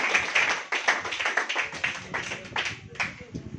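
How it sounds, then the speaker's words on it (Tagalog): A church congregation claps together in praise, a run of sharp, fairly rhythmic hand strikes lasting a few seconds, mixed with voices. "isang palakpak po para sa ating Panginoon"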